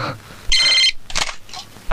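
A telephone rings with a short electronic trill, loud and close, followed by brief clattering sounds.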